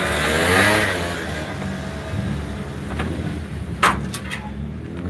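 A Ford Fiesta rally car with its hood removed idles and revs at a rally event, its engine droning steadily with rising pitch sweeps and a brief sharp burst near the end, heard from nearby.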